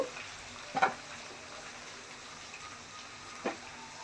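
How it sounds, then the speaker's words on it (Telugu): Chili powder and salt are stirred into oil for a mango fish curry. A steady low sizzle and hiss carries on throughout, with two brief knocks of a spoon against the pan. "దీన్ని బాగా కలుపుకోవాలి ఆయిల్లో"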